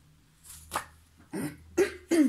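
Several hoarse coughs and throat-clearing bursts from a woman, close up, growing louder toward the end, with no speech.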